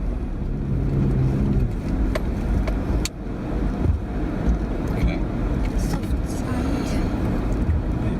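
A car driving through a desert dip, its engine rumbling steadily and picking up as the throttle opens to climb the far side, with road and wind noise throughout and people talking over it.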